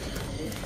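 Pigeons with unusual, long-nosed looks coo in a brief, dense burst of low murmuring. Background noise is heavy and people talk over it.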